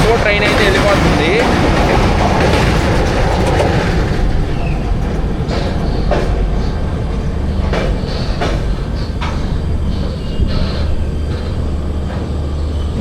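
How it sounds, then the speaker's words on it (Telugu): A MEMU commuter train running alongside on a parallel track near Nizamuddin, heard from inside a moving passenger train as a loud continuous rumble with rattling clicks that eases slightly over time, with talk beneath. "మెమో ట్రైన్ అయితే వెళ్ళిపోతుంది."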